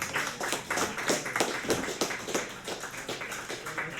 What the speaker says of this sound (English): So big round of applause for Handsome Jack Charles.